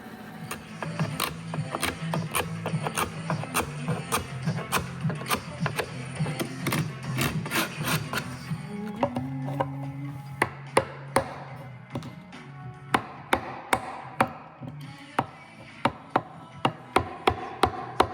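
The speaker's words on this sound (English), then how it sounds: "So I'm going to take this over to the bandsaw and just run a line probably up 3/4 of the way on this piece." A bandsaw cuts a wooden chair piece in a workshop, its motor humming steadily while sharp, irregular knocks and taps punctuate the sound, becoming more spaced and prominent later.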